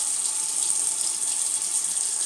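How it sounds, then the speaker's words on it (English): Water runs in a steady, continuous hiss while it is added to a thick, pasty Tabac shave soap lather, heard close and fairly loud throughout. "I'm adding some water in here because this was absolutely too pasty"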